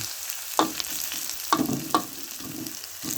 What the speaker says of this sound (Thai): ส่วนหัวเราเอาลงไป เฉียนนะครับเอาไปเฉียนกับน้ำมัน